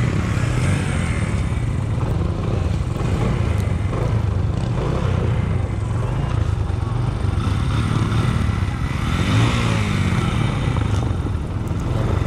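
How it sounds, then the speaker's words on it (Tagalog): Honda XRM motorcycle riding through water on a coastal road, a loud, steady engine drone with splashing and clatter throughout, close and continuous. "kahit na mabasa pa yung buong motor mo ganito sa XRM, hindi talaga siya mamamatay dito."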